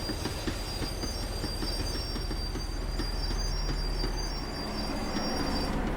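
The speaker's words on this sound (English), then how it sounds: "The tram was slowing down, and I'd only just gotten on board." A tram slows down in Max Payne 3, its wheels grinding and clattering on the rails under a continuous high squeal, loud and steady throughout with no voices.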